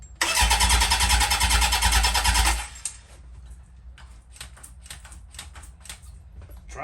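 A Honda 750-4 motorcycle engine turns over loudly and steadily for about two and a half seconds without catching, then drops away, leaving faint clicks and light rattles.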